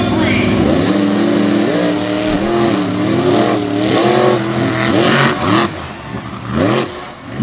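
A 12,000-pound racing truck makes a drag race pass at a Renegade MTT event in Greensburg, PA: a loud, close engine revs up in repeated rising sweeps and then roars away, with an announcer's commentary over it.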